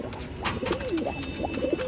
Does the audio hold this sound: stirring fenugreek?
no